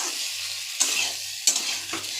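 Mati aloo potatoes sauté in a pan, giving a continuous loud sizzle punctuated by three sharp stirring scrapes spaced across the short stretch, with no talking.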